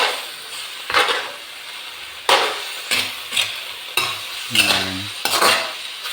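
Pork adobo sizzles in a pan while a spatula scrapes and stirs it in repeated strokes, each stir bringing a burst of searing noise, close by, with a brief word spoken.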